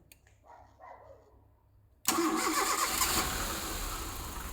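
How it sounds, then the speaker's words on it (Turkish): A Fiat Tipo 1.6 MPI petrol car engine with an LPG system is cranked and fires up abruptly about halfway through, settling into a loud, steady idle after a quiet stretch of faint background noise. "Şimdi arabaya bir marş yapalım."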